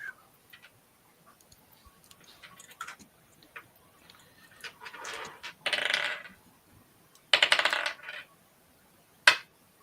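Dice clatter during a tabletop RPG session, with light ticks followed by two louder rattling rolls and a sharp final click, all close and otherwise quiet.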